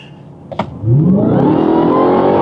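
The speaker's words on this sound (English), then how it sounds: "the main thing that I want to show you is how this car accelerates with these tires" Hellcat RedEye Charger launching hard from a 40 mph roll on street tires, a loud close engine roar climbing steadily in pitch after a brief clunk, sustained and powerful to the end.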